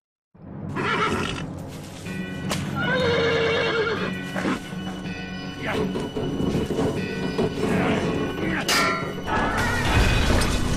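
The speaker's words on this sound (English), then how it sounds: "A strong horse will pull them free." A strong horse in the Western game Call of Juarez: Bound in Blood neighs and whinnies loudly while pulling rusty bars free, with hoof clatter, metallic crashes and scraping in between. A voice is heard among the noise.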